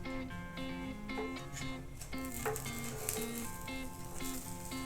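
A sandwich frying in butter on a grill pan, a soft continuous sizzle heard under louder melodic background music that dominates throughout.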